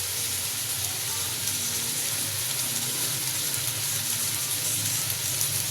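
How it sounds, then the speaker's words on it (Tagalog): A sautéed mix going into a hot pan, giving a steady, close sizzle and hiss that holds evenly all the way through with no talking. "At ilalagay natin yung ginisang mix."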